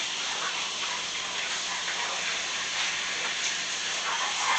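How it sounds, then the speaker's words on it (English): Water runs steadily from a kitchen tap while hands are washed, a continuous broadband hiss and gush that stays loud and even throughout with no talk over it. "Let me wash my hands."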